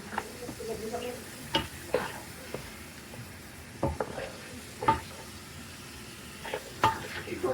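Pork pata pieces are stirred in a sizzling pan, with intermittent scraping strokes of the utensil against the metal over a low continuous fry.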